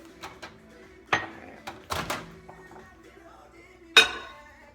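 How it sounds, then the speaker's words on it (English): A ceramic mug holding chocolate mug cake batter is set into a microwave with a few sharp clinks and knocks, including a door clunk, spaced irregularly in a quiet kitchen. "So I'm gonna throw this in the microwave."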